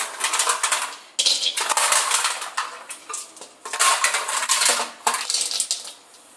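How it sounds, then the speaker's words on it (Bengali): Ice cubes from a freezer tray tumble into a clay pot in several loud, clattering bursts of hard clinks and rattles, each pour separated by brief pauses. "এই যে বরফগুলো হাঁড়ির মধ্যে দিয়ে দেবো।"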